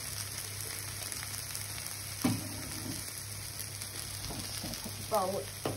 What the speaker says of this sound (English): I'm going to need to keep stirring this because this is starting to turn brown